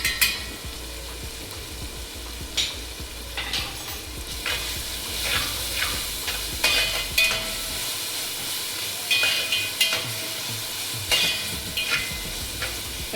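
Masala for egg biryani frying in oil in a pan: a steady sizzle and hiss with repeated scraping, stirring clatters throughout.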